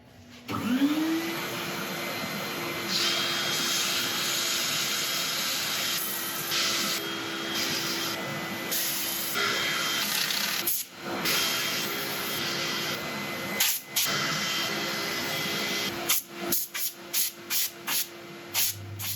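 A power sander whirs in a loud, steady hiss for most of the time, sanding a monkey puzzle wood bowl, then stops and starts in several short bursts near the end.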